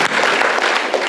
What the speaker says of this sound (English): I'm complaining and the guy's clapping about it.